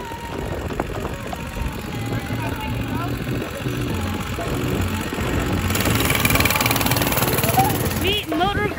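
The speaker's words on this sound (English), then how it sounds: "here comes Mariah on the bike" Small mini bike engine running steadily with a rough, buzzing drone that swells as the bike rides closer, heard outdoors under people talking.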